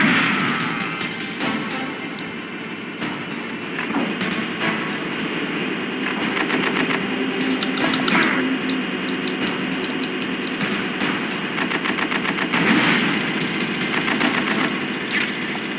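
A tank's machine gun in Metal Gear Solid hammers out rapid bursts of fire for several seconds over a heavy, continuous engine drone.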